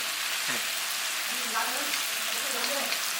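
Duck jumulleok stir-fry sizzles in a pan at a restaurant in Gongju, a steady close hiss with a few brief voices and laughter over it.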